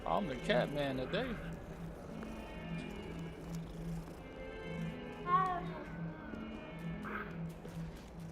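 A cat meows a few times in Hogwarts Legacy, short rising cries early and again midway, mixed with game music while someone talks over the scene.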